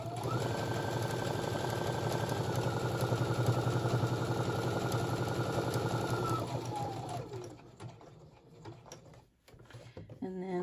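A sewing machine stitches a prayer quilt in a steady, even mechanical whir close by. It runs for about seven seconds, slows, then stops, leaving a few light handling clicks.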